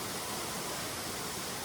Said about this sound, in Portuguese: você escuta o som da cachoeira